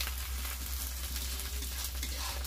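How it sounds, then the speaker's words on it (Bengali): Meat frying in a pan with onion, garlic, ginger and spices, a steady close sizzle with faint stirring scrapes and no talk. "মাংস তো রান্না করছি, সব মশলা তো দিয়ে দিলাম, সব পরপর পেঁয়াজ রসুন আদা"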